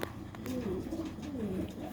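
A pigeon coos close by in soft, repeated low rolling calls, with faint background murmur.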